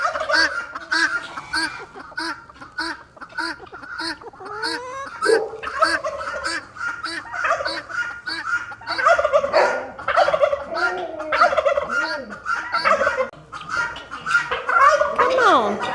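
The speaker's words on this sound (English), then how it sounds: "The guineas are so noisy" Guinea fowl call noisily and continuously, a dense chorus of harsh, rhythmic chattering cries close by, with a person's voice now and then underneath.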